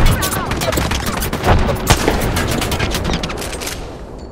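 Gunfire in Apex Legends comes as rapid bursts of shots and sharp cracks, close and loud, spread across a running firefight that fades slightly toward the end.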